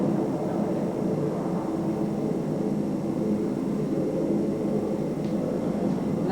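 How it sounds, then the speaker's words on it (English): Steady low broadband roar of an airplane passing overhead, continuous and moderately loud for the whole stretch with no voices over it. "Is that airplane noise getting in the way?"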